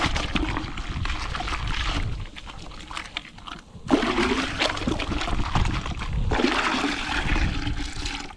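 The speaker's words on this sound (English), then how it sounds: "Just get a bucket with some soapy solution in it, drop it in like this, plunge and pick up, plunge and pick up" A 1993 Ford Cobra car part is plunged repeatedly into a bucket of soapy water, giving loud sloshing and gurgling splashes in uneven bursts with a brief lull midway.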